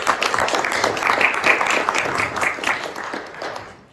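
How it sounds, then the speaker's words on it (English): Audience applause after a presentation at a technology event, a room full of steady clapping that holds for a few seconds and then fades out toward the end. "Please give your applause to Timo."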